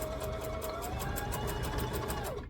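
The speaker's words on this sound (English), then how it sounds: "I'm going to stitch and then I'm going to back stitch, and then we are just going to sew around and around." A sewing machine runs steadily while stitching a dress bodice, its fast rhythmic needle pulses loud and close, slowing slightly at the end.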